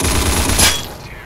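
An M249 machine gun firing a sustained burst through a wall in Counter Blox, a loud, close, continuous rattle that fades out at the end.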